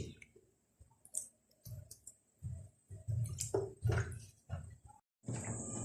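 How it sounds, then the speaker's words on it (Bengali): Dates being washed by hand in water, a series of wet squishing splashes and clicks in short irregular bursts with brief pauses between them, ending in a louder rush of water, no speech. "তাই আমি এই খেজুরটা ভালো করে ধুয়ে নিচ্ছি।"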